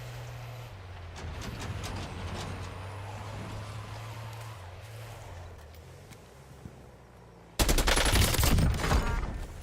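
A worn-out vehicle in Warzone's Verdansk rolls along with a steady, droning engine hum for several seconds, then a sudden loud burst of close gunfire takes over at the end.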